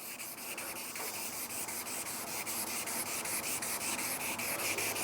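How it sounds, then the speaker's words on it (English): Steady, continuous abrasive rubbing of 400-grit wet and dry sandpaper over a hard epoxy serving board surface, close and even, with a faint regular back-and-forth pulse and no talking. "Might have to go old school and use a sanding block. So now this is a 400 wet and dry."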